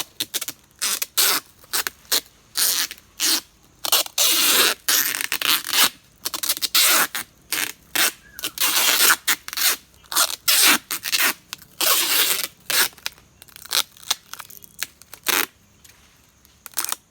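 Large sticky tape is pulled off the roll and pressed around a kithul palm flower to seal it, giving repeated short ripping and scraping bursts, close and fairly loud, with no talk.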